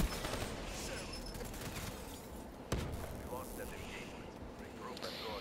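Rifle fire in Call of Duty Black Ops III crackles in rapid bursts over a steady battle din, with one sharp, louder shot partway through and a player's voice talking over the action.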